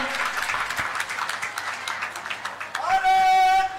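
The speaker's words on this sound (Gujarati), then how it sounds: "તાળીઓના ગડગડાટથી વધાવીએ" A crowd at a public gathering welcoming arriving guests with applause, a steady dense clatter of clapping over a loud speaker's voice, ending in a swell of noise.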